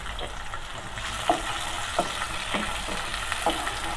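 Onions frying over high heat in a hot pan for tinda with chana dal, a steady sizzle broken by several distinct stirring scrapes spaced about half a second apart.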